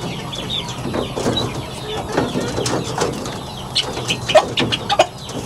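Several young chickens and a mother hen in a backyard pen cluck in short, scattered calls, with some wing flapping and rustling close by and no talking over them.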